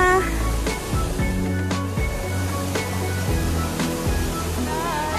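A waterfall on Qing Dai (Tsing Tai) stream in Tuen Mun gives a steady, loud rush of falling water that fills the scene throughout, with faint voices underneath.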